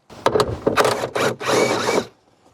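A ratchet loosens the two 14 mm seat belt bolts in a Honda Element, heard close up as several short clicking bursts followed by a longer steady run of ratcheting that then stops.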